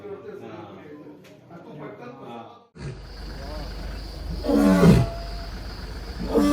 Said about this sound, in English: This big guy's roar could give a jet engine a run for its money.